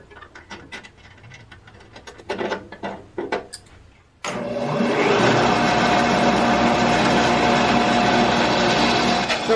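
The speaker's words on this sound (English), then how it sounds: "there's another thrust bearing up here, and that's making lots of noise" A Shopsmith bandsaw with a noisy thrust bearing starts up partway through after a few quiet knocks, then runs with a loud, steady mechanical whir and rattle to the end.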